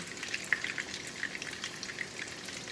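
Steady frying sizzle of chicken schnitzel in a pan, with small pops and crackles scattered throughout, close by and fairly quiet, no voices.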